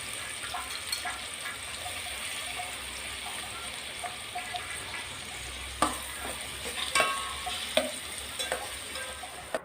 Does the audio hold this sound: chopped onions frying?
yes